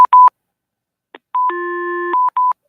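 Telephone keypad dialing tones for a call-in show: a quick series of short beeps, a sustained dual tone, then a few more beeps, loud and clean with no talk.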